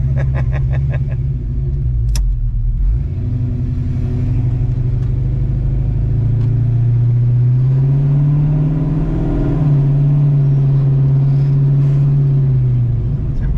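A drag car with a fresh engine and automatic transmission makes an eighth-mile test pass, its loud engine rising through gears with audible upshifts and a sustained rumbling exhaust heard from inside the car.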